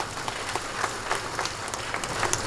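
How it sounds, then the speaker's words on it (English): An audience gives a round of applause to the local MLA at a village gathering in Patharkhmah, Ri-Bhoi district, steady scattered clapping from a moderate distance. "let's give a round of applause to your local MLA for the work that he has done"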